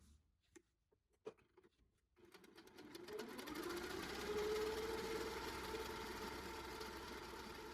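A sewing machine doing free-motion quilting starts after a few faint clicks and taps, then runs in a steady, rapid mechanical whir close by, with slight shifts in speed.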